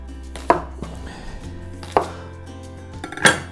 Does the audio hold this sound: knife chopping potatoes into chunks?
yes